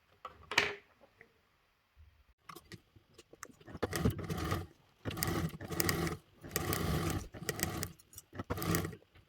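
A domestic sewing machine runs a 1/4 inch seam in fabric, with several bursts of steady motor whirring separated by short pauses and a few small handling clicks at the start.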